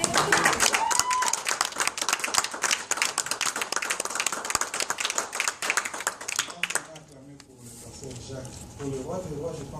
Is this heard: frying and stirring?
no